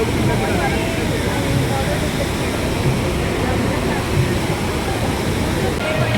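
Rushing water of the Narmada river roars loudly and continuously, a dense, steady churning flow close by.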